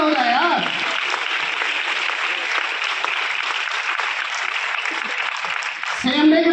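An audience at a business seminar bursts into loud, sustained clapping that fills the room steadily for several seconds before fading, with a voice briefly heard at the start and again as it ends.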